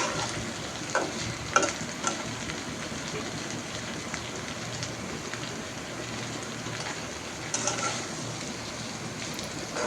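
Cut okra frying with raw onion and green chilies in a pan, a soft rain-like sizzle throughout with a few louder stirring clatters, fairly quiet and without speech.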